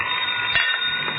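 An old telephone bell ringing in a radio police drama, a continuous bright electric ring that holds steady and fairly loud through the moment.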